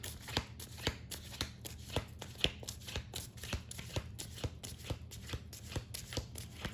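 A Deepak Chopra success oracle card deck being shuffled by hand, quiet rapid flicking riffles and soft slaps in an uneven rhythm, close and alone.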